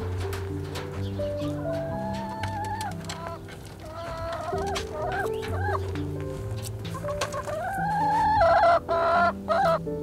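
Backyard chickens cluck and murmur nearby in a small garden space, a continuous flock of soft calls rising into louder, drawn-out squawks toward the end.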